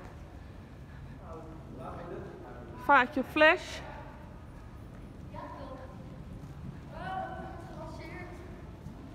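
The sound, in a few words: horses' hooves clip-clopping while being ridden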